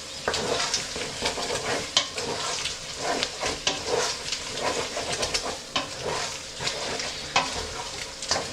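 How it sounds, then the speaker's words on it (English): Chilli con carne mince, starting to stick on the bottom, stirred and fried in a pan, with busy repeated spatula scrapes over a constant sizzle, close and lively, no voices. "I'm going to stir this around for a couple more minutes."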